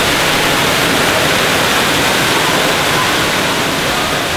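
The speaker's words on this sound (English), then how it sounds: "We go through all that work to see this hidden waterfall that no one knows about." A hidden waterfall in a remote spot pours with a loud, steady roar of broadband rushing water that stays constant throughout, with no voices.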